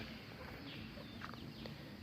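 Chickens raised on a rural village farm cluck faintly in the distance, with a few short calls breaking through a steady low background.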